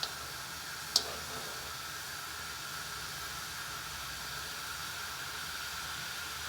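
An egg frying in a pan gives off a steady, even hiss throughout, with one sharp click near the start and no voices.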